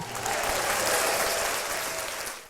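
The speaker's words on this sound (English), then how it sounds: "Look, it's even we got people clapping." Canned applause from a soundboard on a podcast: a smooth, dense burst of crowd clapping that swells in, holds steady for a couple of seconds, then fades out.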